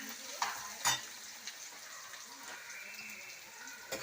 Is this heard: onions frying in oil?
yes